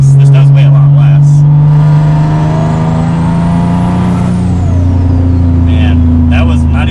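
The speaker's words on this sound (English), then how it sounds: "You can already hear just like all the turbo sounds." A single-turbo Nissan 370Z accelerating hard, a loud, steady engine drone heard from inside the car with a rising turbo whine sweeping up then falling away, while people talk over it.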